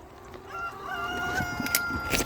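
Free-range farm chickens cluck and a rooster crows, clear nearby calls rising over quiet outdoor ambience near a coop with a natural drainage waterer.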